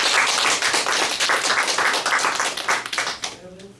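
A church congregation claps together during a Sunday worship service, dense sustained applause filling the room before fading out, with a voice briefly heard as it dies away.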